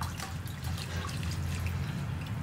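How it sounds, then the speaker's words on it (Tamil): Water is poured off rinsed sesame seeds, leaving grit and stones at the bottom of the vessel, in a steady close trickle and splash that continues throughout. "நம்ம இப்போ இப்படியே அலசி ஊற்றணும் இல்லைங்களா, கீழே எல்லாம் கல் இருந்து எல்லாமே நின்றுக்குச்சு"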